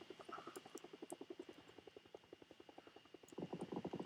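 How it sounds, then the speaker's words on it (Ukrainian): Helicopter overhead on the Miramar map of the video game PUBG, a steady rapid rotor chop that pulses on, quiet and distant at first, then louder near the end. "Так, гелікоптер наді мною."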